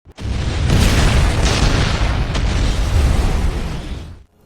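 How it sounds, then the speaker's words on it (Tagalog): A loud, deep explosion from a detonator-triggered blast destroying vehicles booms and roars for several seconds, then trails off abruptly into silence. "pinindot niya ang detonator at naganap ang malakas na pagsabog"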